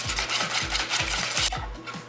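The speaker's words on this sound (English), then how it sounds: "just whisk those together until they are mixed evenly and well blended" Eggs, yolks and sugar are whisked in a bowl with a steady, rapid back-and-forth scraping rhythm, close up and alone, about eight strokes before the motion slows.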